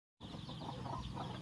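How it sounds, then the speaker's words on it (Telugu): Native country chickens (natu kollu) clucking inside a farm coop, a steady close chorus of low clucks and murmurs that starts abruptly after a brief silence, with no talking. "చూడండి కోళ్ళు ఏం చేస్తున్నాయో"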